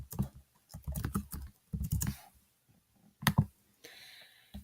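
Typing on a computer keyboard while entering a student's name into a Google Sheets form: quick irregular bursts of close, crisp key clicks with short pauses between them.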